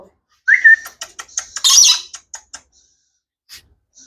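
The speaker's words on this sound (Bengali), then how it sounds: "এটা হচ্ছে গিয়ে রেড ক্যাপ লরি" A red-capped lory calls with a shrill rising screech followed by a burst of quick chattering chirps and squawks, then a couple of faint calls after a pause.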